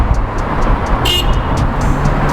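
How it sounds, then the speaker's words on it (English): Short car horn toots sound several times amid downtown Denver street traffic, a series of brief honks over a low rumble of passing vehicles. "Even got a couple people honking when they saw us filming out there"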